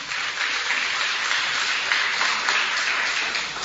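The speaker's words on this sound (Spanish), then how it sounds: "Dale fuertes palmas al Señor." A church congregation claps their hands in a continuous, even roar of applause, dense and sustained for several seconds, with no voices standing out.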